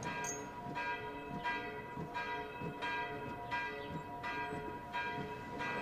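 A mill gate bell rings in a steady, repeating pattern of loud metallic strikes roughly every second and a half, with no talk over it.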